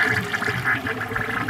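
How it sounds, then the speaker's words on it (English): 1946 Kohler Trylon toilet flushing a rag, a short close rush and gurgle of water draining through the bowl. "I'm gonna give that another flush once it fills"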